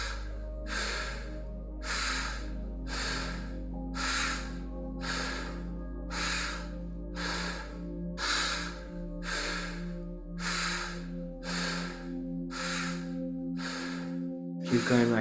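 Slow, steady rhythmic breaths during a guided deep breathing exercise, about a dozen loud airy inhale-exhale cycles roughly every second, close to the mic over a low continuous hum, with no talking.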